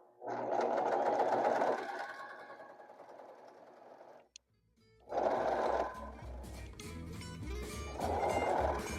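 A sewing machine runs in fast bursts while hemming denim jeans, stitching over a bulky seam, with a loud run, a short pause near silence, then steady stitching again.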